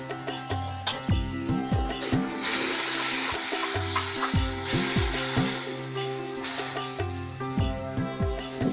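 Garlic paste and spices sizzling and frying in a pan for a rural raw jackfruit dish, with rhythmic stirring scrapes repeating steadily over a continuous hiss.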